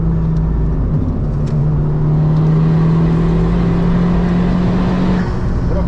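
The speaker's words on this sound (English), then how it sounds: "What I find most interesting is how much it revs for a turbo car" A Honda Civic Type-R FK2 with a turbo engine revs hard on the Nürburgring, a steady loud drone of engine note rising in pitch as it pulls through the gears, heard continuously from inside the car.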